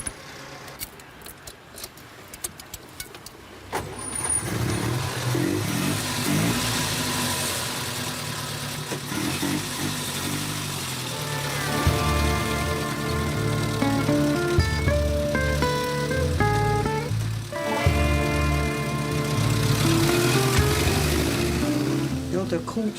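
A villager's distinctive car in Schwellbrunn idles and drives by, a mid-pitched engine hum building after a few seconds of clicks and jangling, rising and steadying as it nears, with music tones and voices over it.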